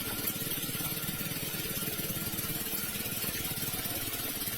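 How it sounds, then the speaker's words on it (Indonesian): Engine of a coconut-flushing water machine used in coconut harvesting, a steady mid-pitched motor drone running continuously and fairly close with a throbbing pulse, no voices over it. "Nah itulah gunanya mesin penghanyut kelapa di sana."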